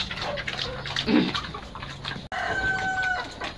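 Chickens cluck and squawk nearby amid a busy yard, with scratchy rustling and a brief sharp click partway through.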